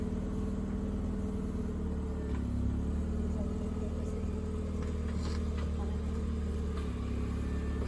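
A classic collector car's engine runs at a steady idle with a continuous low rumble, recorded close up. Mild background noise sits under the engine.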